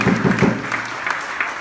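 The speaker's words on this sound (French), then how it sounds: "on acclame le Seigneur" A church congregation claps in applause, a brief burst of crowd clapping with a voice faintly under it, near and fairly loud before it tails off.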